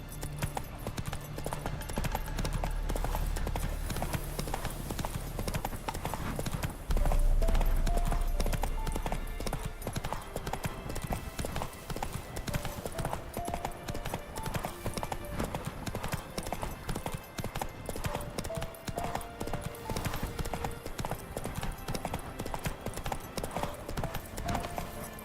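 Geralt's horse Roach galloping in The Witcher 3, producing a dense, continuous clip-clop of hoofbeats that runs throughout at close range, with an occasional faint voice beneath.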